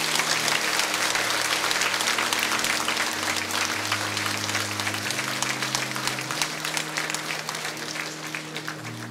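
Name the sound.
warm applause from church congregation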